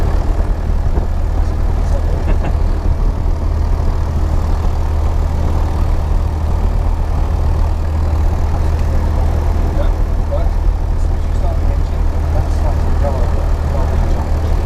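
A light training aircraft's engine idles on the ground as a steady, loud, low droning rumble that never lets up, with voices speaking over it.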